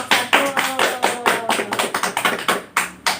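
A classroom group claps for the first presentation group in a microteaching lesson, a burst of loud, uneven hand claps with distinct sharp strikes throughout. A faint tonal hum underlies it, and no voices are heard.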